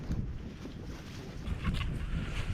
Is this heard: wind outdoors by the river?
yes